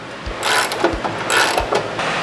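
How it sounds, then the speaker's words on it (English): A 9/16 wrench and socket ratchet while loosening bolts on a Dalton Ag Mobility dry fertilizer spreader, with two loud, close bursts of ratcheting clicks and a few thumps in between and no talking. "you will need to loosen these bolts here using a 9/16 wrench and socket"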